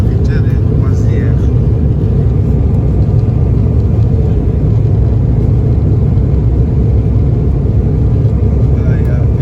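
An airliner cabin at cruising speed on a Johannesburg to Durban flight fills the space with a loud, steady low roar and rumble that holds constant throughout.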